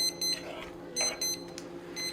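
Repeated high electronic beeps in short bursts, like an oven or timer alarm, sounding over a low steady hum with faint background noise.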